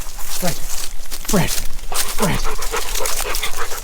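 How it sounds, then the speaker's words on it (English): A dog at a campsite in Waroona pants and shuffles about close by, with quick breathy pulses and movement noise, while people talk over it throughout. "This is the most obedient dog"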